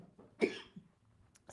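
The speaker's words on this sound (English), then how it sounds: "I got a cough coming" A single close, sharp human cough from a speaker at a microphone, short and abrupt with a faint trailing breath, alone without talk.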